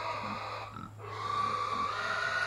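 Low grunts and snuffles of fattener pigs under a steady hum of background noise, with a high-pitched squeal partway through.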